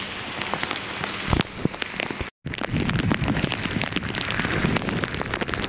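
Steady rain pours down around a ferry crossing from Mandwa to Mumbai, a dense continuous hiss with scattered drop impacts, close and fairly loud, briefly cut off midway before resuming.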